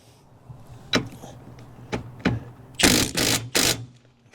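A cordless impact wrench with a big battery tightens boat trailer lug nuts in a few short bursts, several sharp clacks followed by three loud, close rattling hammer bursts.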